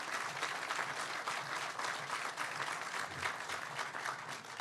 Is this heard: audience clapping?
yes